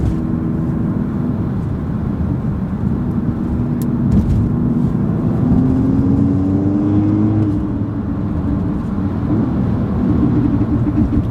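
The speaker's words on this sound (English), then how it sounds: "just a quick drive, just to show you basically how the car feels while going over bumps" An Audi with adaptive suspension drives over bumps, its engine and tyre drone steady and close inside the cabin, with a faint rising whine and occasional low thumps as the car moves along.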